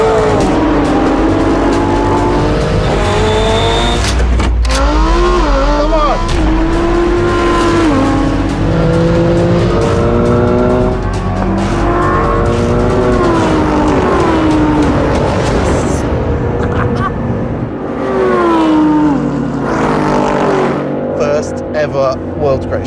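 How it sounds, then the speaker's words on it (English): A McLaren 720S and a Lamborghini accelerate hard side by side in a drag race, engines roaring loud and close with rising, stepping pitches through gear changes and a brief tire squeal, under excited talk. "The Lambo just gets the jump on the Mac off the line"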